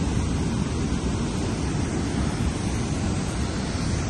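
A river rushes along a trail on the North Annapurna Base Camp trek, a dense, unbroken roar of flowing water, loud and close with no pauses.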